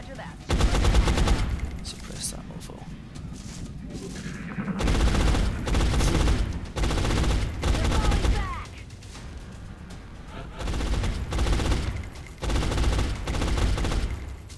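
Gunfire from a marksman in the video game XCOM: Enemy Unknown comes in loud, repeated bursts of rattling shots mixed with mechanical game effects, with brief pauses between volleys.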